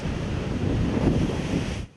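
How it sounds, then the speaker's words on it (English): Seawater surging and splashing over the Malecón seawall in Havana, a loud, continuous rushing wash of surf mixed with wind buffeting the microphone, cutting off abruptly near the end. "watching water splash over the famous Malecón"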